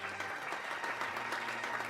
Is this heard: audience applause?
yes